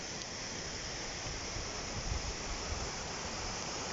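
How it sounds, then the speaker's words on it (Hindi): Water rushes beneath a glacier near Kedarnath in a steady, even hiss of flowing meltwater. It is faint and continuous, with no voices. "इसके नीचे से पानी बह रहा है।"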